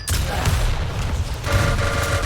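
Rockets firing and exploding in a Quake duel, a dense, loud barrage of booming blasts and crackling fire running continuously with no gaps.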